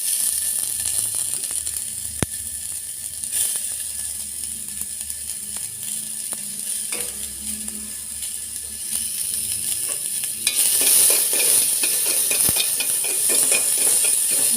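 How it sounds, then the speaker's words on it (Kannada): Food frying in oil in a pan for hotel-style curd rice, a steady sizzle with scattered scraping and clicking from stirring, growing brighter and louder toward the end, with no talk. "ಚೆನ್ನಾಗಿ ಎಣ್ಣೆಯಲ್ಲಿ ಫ್ರೈ ಮಾಡುತ್ತೇವೆ"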